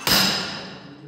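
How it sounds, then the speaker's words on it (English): A Marshall stability compaction hammer drops onto a bituminous mix sample, a single loud, close metallic impact with a short ringing decay. "this is the hammer which is used for the Marshall stability"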